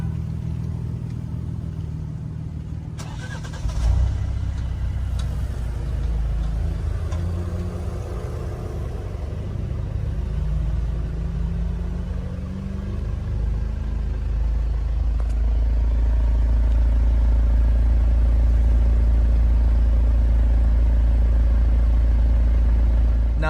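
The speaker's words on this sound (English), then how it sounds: "the first thing I hate about my Alfa Romeo Giulia is the exhaust sound" Stock factory exhaust of an Alfa Romeo Giulia, a steady, muted turbocharged drone that swells slightly as the engine picks up, with some clatter and no voices.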